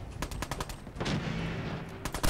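Gunfire in Fallout 4, a burst of rapid shots in the first second, then a denser stretch of fire and a final quick volley, fairly loud and with no talk over it.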